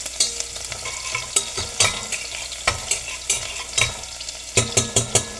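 A utensil stirs garlic frying in a pan, producing repeated scraping knocks in an uneven rhythm over a constant sizzle, close and fairly loud, with a quick burst of strokes near the end and no voices.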